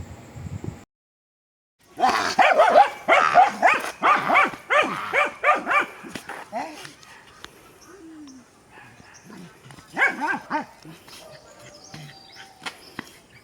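A dog barks in a quick series of sharp yaps close by, then quieter whimpers and scattered barks follow after a brief silence.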